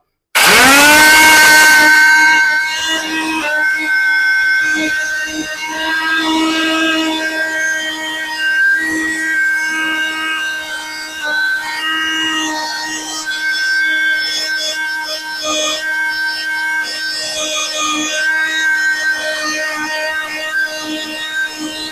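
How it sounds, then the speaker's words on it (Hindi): A loud electric kitchen grinder starts abruptly and runs steadily, grinding herbal weight gainer powder with a sustained whining drone and a rattling, churning texture throughout, with no voices. "तो मैं इसको अभी पीसने लगा हूं अपने ग्राइंडर में।"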